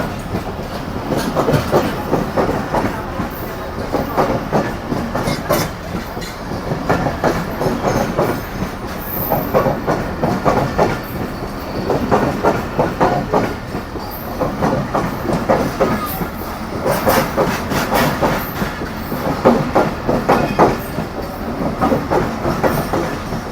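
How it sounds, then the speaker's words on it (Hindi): The Millat Express passenger train rolls past a stationary train waiting at the outer signal near Hyderabad, Pakistan. A steady, loud rumble carries rhythmic wheel clatter and faint squeals throughout. "मिल्लत एक्सप्रेस को, जिसके इंतज़ार में हम खड़े हुए थे हैदराबाद के आउटर सिग्नल पर। ये गुजरेगी"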